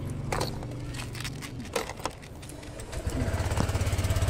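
A Honda Click V3 scooter engine runs with a low, rough motor note that weakens, then settles into a rhythmic, pulsing idle near the end, heard close and fairly quiet.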